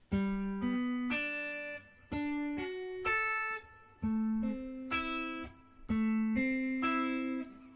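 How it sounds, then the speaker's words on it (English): A guitar plays single notes one after another in slow arpeggio groups, each note ringing on into the next, clear and close without voices. "I'm just going to run through an arpeggio of single notes."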